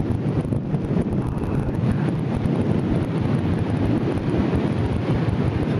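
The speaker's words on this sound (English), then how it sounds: "It's quite windy. You can probably hear" Strong wind roars steadily across the microphone for several seconds on South Barrule, Isle of Man, at a paragliding site, a dense, unbroken rush with no voices.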